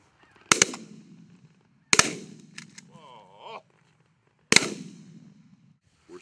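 Shotgun blasts during a goose hunt: three loud, sharp close shots spaced a second or two apart, each ringing out briefly, with a short goose honk heard between them.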